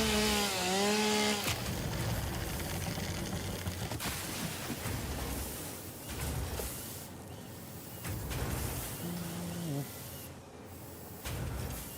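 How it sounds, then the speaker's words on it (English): A chainsaw in the video game Satisfactory buzzes through cuts in repeated bursts, rising and falling in pitch with short pauses between, while someone talks at times in the background. "We haven't had any early morning chainsawing today, so let's just do that."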